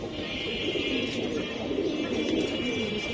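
Giribaz pigeons coo in a steady, close, continuous murmur, with a soft constant hiss underneath.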